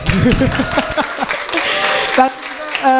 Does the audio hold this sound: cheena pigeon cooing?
no